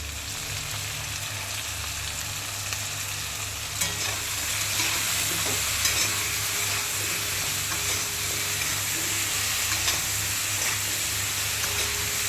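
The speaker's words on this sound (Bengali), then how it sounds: "লবণ হলুদ দিয়ে কচুটাকে ভেজে নেবো ভালো করে" Taro pieces frying with salt and turmeric, a continuous close sizzle broken by occasional stirring clatters and scrapes, steady and fairly loud with no voices.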